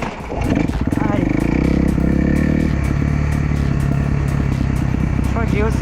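A small beginner motorcycle rides with its engine puttering and revving in a fast, steady thrum, close and loud, while a rider talks over it in French.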